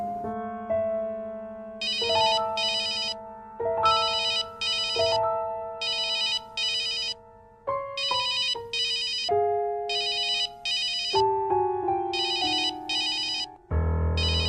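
A telephone ringtone plays a looping electronic melody of bright tones with rapid trilling bursts, repeating steadily and loud with no voices over it.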